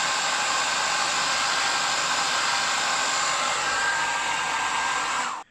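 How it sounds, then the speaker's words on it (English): A steady, close hair dryer on low heat blows with an even whooshing hiss for several seconds, then cuts off abruptly. "I have got a hairdryer, but I don't want to start blowing everything around, so low heat"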